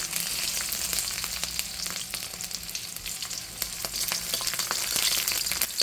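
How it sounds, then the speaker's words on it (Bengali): Garlic frying in oil for a lentil dal made with ridge gourd, a steady crackling sizzle with faint stirring scrapes, close and even throughout, with no one speaking. "এটা একটু ভালো করে ফ্রাই করে নিচ্ছি"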